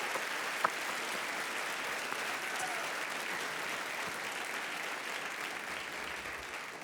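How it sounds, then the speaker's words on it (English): An audience at a university Hall of Fame induction ceremony claps in sustained, even applause filling a room, heard at a moderate distance with no speech over it. "Can we please just get a round of applause for the people who are in here?"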